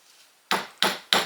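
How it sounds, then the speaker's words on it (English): Three firm hammer taps, spaced about a third of a second apart, each a sharp close knock with a short decay, following a quiet stretch with no talking. "All right, let's do the gentle hammer."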